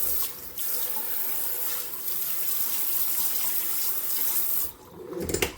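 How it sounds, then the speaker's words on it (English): A scrub brush rinsed under a running tap, with steady close splashing of water into a sink that holds for several seconds before briefly cutting off, then a few wet knocks. "And then I just give it a quick little rinse."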